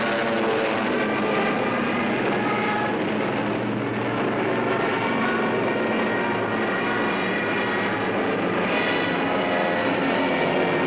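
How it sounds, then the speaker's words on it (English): Drone of WWII German fighter aircraft flying over the English Channel, a steady, loud, continuous engine roar with no break throughout. "German fighters waited overhead for the defending planes of the Royal Air Force"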